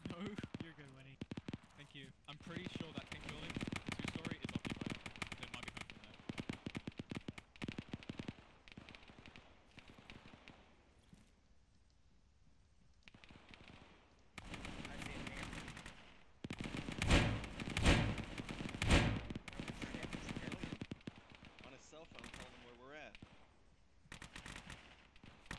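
Bursts of gunfire and automatic weapon fire in a military shooter video game, loud and irregular, with heavier clustered volleys near the middle and end, while players talk over it throughout.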